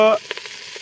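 Fenugreek leaves are stirred and fried in a pan, giving a brief soft sizzle with a few light scraping stirs after a short tonal hum at the start.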